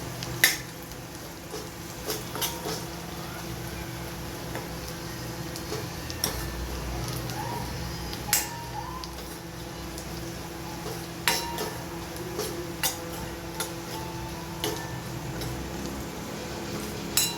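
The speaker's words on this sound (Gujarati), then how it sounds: "હવે થોડુંક ધીમા તાપે એને ફેરવશું." A spoon scrapes and clinks against a pan in irregular strokes as onion, garlic and chili chutney sizzle quietly on low heat, with occasional sharper metallic taps.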